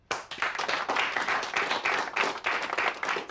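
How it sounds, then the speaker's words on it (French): A small group applauds a police team, brisk clapping rising quickly and continuing in uneven bursts for a few seconds. "Je crois qu'on peut l'applaudir."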